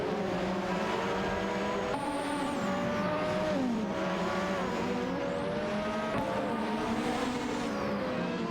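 Race cars duel and overtake in an AI racing video game. Several high-revving engines overlap in a continuous loud whine, with pitches rising and falling as cars pass and shift.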